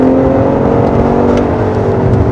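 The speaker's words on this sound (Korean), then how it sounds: "이때는 당연히 엔진 소리가 커져." A Lincoln Aviator SUV's 405-horsepower engine revving hard in sport mode, a loud, steady, dense roar with a strong low hum heard from inside the car.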